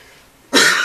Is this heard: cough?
yes